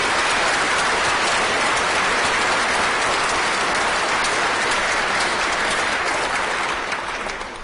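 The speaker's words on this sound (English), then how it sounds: "Can you just give Caius a round of applause?" Sustained, loud applause from a council chamber audience at a mayor-making ceremony for a young organist, a dense wash of clapping that holds steady and tapers slightly at the end.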